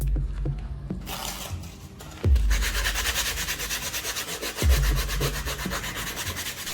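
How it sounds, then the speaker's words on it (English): Sandpaper rubbing over a leather book cover in steady back-and-forth strokes, a close, continuous raspy scraping with a few heavier thumps of hand pressure. "First I sanded the leather cover a bit"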